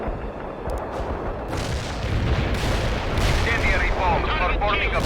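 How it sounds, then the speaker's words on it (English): Incendiary bombs detonate in World in Conflict, a dense, continuous roar of blasts and crackling fire rumbling loudly throughout, with radio-style voice chatter mixed in. "Incendiary bomb performing above expectation."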